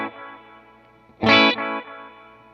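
An electric guitar plays through a Wampler Doctor lo-fi ambient delay pedal with a bit too much reverb: a sustained chord with a swell, then a short, louder, bright and wavering burst that fades back into a quiet ringing tail.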